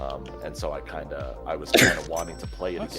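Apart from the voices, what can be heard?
sneeze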